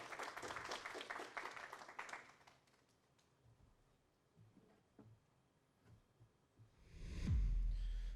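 Audience applause at a startup pitch event fills the first two seconds, a dense clapping crowd that quickly thins and dies away into quiet room noise, followed by a low thump near the end.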